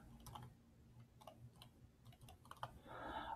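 Quiet typing on a computer keyboard while filling in account registration details, with irregular light key taps in short bursts and a faster flurry at the end.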